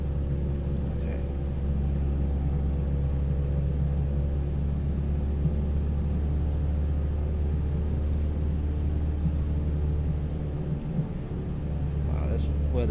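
Bush plane engine droning steadily on a landing approach in bad weather, a dense continuous cabin rumble with a pilot talking over it.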